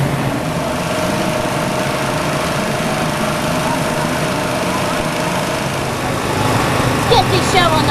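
A motorcycle engine runs steadily at a race track, a loud continuous buzzing drone that holds close and even, swelling slightly toward the end.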